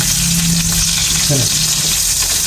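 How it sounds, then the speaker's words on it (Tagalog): Onions frying in hot oil in a pan give a steady, close sizzle with a short stir partway through, with no talking. "Buyas, lagay na buyas natin."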